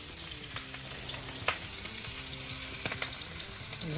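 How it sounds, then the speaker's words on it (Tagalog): Oil sautéing in a pan before garlic goes in gives a dense, steady sizzle with a few sharp spattering pops rising above the hiss. "hintayin lang natin na konting gisa-gisa"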